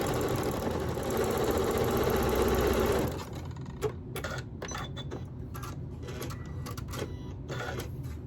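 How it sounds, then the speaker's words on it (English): A sewing machine stitches quilt squares together for a Yankee Puzzle quilt block, running in a steady, dense whir for about three seconds before stopping, followed by quieter handling clicks. "I'm just going to sew the squares together."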